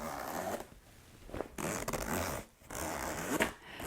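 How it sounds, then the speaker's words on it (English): The noisy zipper pulls of an Away outdoor backpack rasp in several long scraping runs, close and fairly loud, separated by short pauses as the bag's zippers are opened. "the zipper pulls are really noisy"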